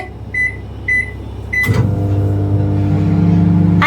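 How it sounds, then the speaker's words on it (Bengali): A microwave oven warming food for twenty seconds: three short button beeps, a clunk as it starts, then a steady low electrical hum with a faint whine, close and alone. "তো এটা ভিউয়ার্স এখন আমি গরম করতে দিয়ে দিচ্ছি এই যে ওভেনে দিয়ে দিচ্ছি"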